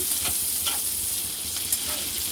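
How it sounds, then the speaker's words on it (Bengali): Onions and green chillies frying in a pan, with prawns just lifted out, a constant close hissing sizzle with a few soft stirring knocks and no talking. "এগুলোকে এখন ভেজে নিতে হবে"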